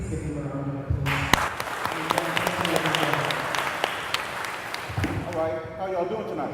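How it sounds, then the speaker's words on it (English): Audience applause greets a panel speaker at an evening panel discussion, a dense wash of clapping that swells after about a second and carries steadily for several seconds before fading, with voices talking over the start and end. "Please give him a round of applause."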